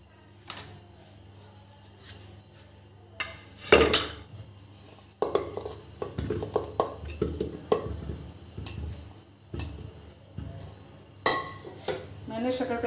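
Cut sweet potato pieces clatter into a metal pressure cooker, with several sharp clinks and knocks of pieces and utensils against the pot, close by and fairly quiet, with short pauses between.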